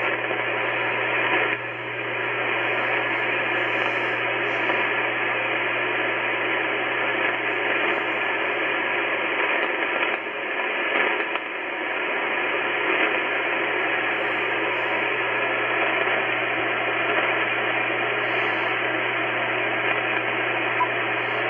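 Steady radio static on an Icom IC-9700 with the noise blanker off, a constant loud noise with a low hum beneath it that continues throughout without any voices.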